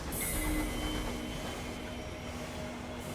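A flying train in the Sunless Skies video game gives a steady iron-on-iron rumble and rolling clatter, with a faint high squeal near the start, continuous and fairly loud with no voices.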